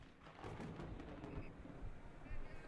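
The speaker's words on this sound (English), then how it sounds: "There was thunder but no rain." Low, rolling thunder rumbles faintly and steadily in the video game The Cub, set in a hot, dry wasteland, a soft distant growl that swells slightly near the end, with a voice narrating over it.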